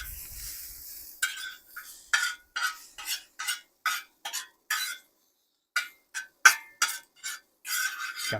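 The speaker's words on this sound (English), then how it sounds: "Gotta mix that in." Mrs. Dash, salt and pepper seasoning mixed into food with a utensil, a series of brisk scraping strokes in a steady rhythm, close and clear, with short pauses and outdoor wind at the start.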